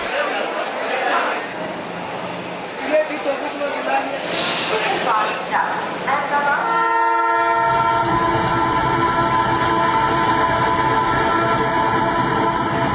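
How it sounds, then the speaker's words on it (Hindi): The Sabarmati Express passenger train on the Vadodara to Varanasi route, a loud rumbling run of wheels and carriages that gives way to a long sustained horn blast, heard close and steady. "साबरमती एक्सप्रेस में हम वडोदरा से वाराणसी जा रहे हैं।"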